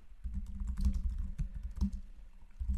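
Rapid typing on a computer keyboard while writing a social media thread, key clicks coming in quick uneven bursts, close and fairly quiet, with no voices.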